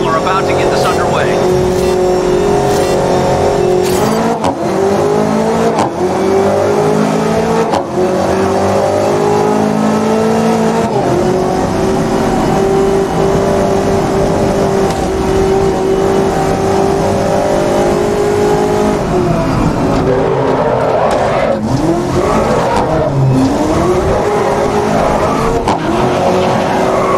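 Aston Martin Vantage GTE race cars in the Grid 2019 racing game, engines revving loudly and climbing through gears with repeated tire squeals and skids, a race commentator's voice talking over the action.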